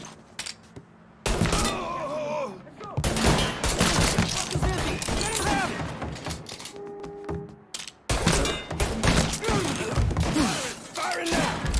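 Gunfire in Mafia III, loud bursts of shots and heavy thumps in a chaotic firefight, starting after a short lull, cutting out briefly near the end and resuming just as strongly, with shouting voices mixed in.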